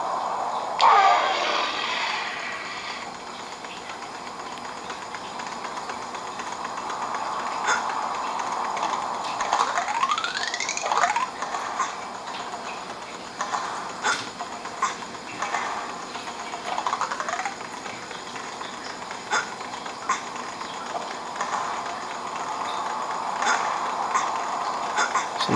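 Temple Run 2 game audio played from a Cherry Mobile Hyper phone's speaker: a steady, moderately loud background bed with recurring swooping effects and short clicks scattered throughout.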